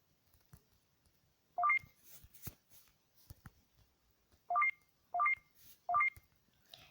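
Four quick bursts of rising electronic beep tones, like phone keypad dialing, stand out clearly against near silence with faint clicks between them.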